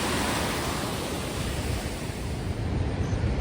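Somtirth waterfall at Nivendi flows down into a stream with a constant, broad roar of rushing water, close and unbroken throughout.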